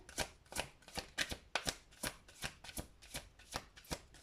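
A deck of oracle cards shuffled by hand in quick, regular riffles, roughly nine sharp bursts in a row, close and distinct with nothing else heard.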